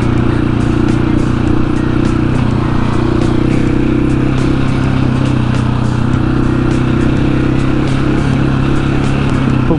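A Husqvarna 701 motorcycle cruises steadily in third gear on a flat tire, its engine droning loud and constant with a steady low hum and wind noise throughout.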